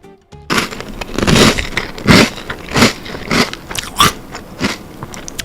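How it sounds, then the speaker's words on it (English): Cap'n Crunch cereal in milk being crunched and chewed up close, a steady series of loud, crackly bites about every second, with no talk. "Listen to that crunch."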